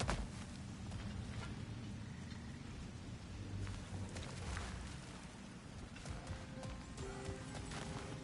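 Steady rain and rolling thunder fill a stormy wasteland in God of War Ragnarok's Alfheim, a dense continuous roar with low rumbles and scattered sharper cracks, no talking.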